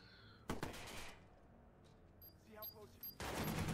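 Gunshots in the video game Watch_Dogs, two loud bursts of rapid fire a few seconds apart, close and sharp, with a voice briefly talking between them.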